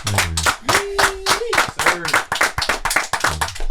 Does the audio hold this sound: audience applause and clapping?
yes